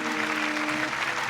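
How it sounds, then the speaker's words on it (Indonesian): Applause from a studio audience at a televised Quran recitation competition, a dense steady patter of clapping filling the short moment without pause. "tepuk tangan sekali lagi buat Zam-Zam"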